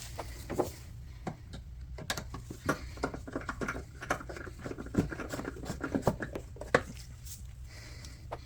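A ratchet turns a 10mm socket on the bolt of a rear ABS sensor on a 2015-2023 Jeep Renegade, giving a run of quick clicking ticks in uneven bursts, close and moderately quiet, with no talking.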